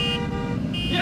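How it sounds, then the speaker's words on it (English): Car horn honking at a mini golf and speedway lot, with steady tonal blasts running through the clip alongside a cheering voice. "Let's honk!"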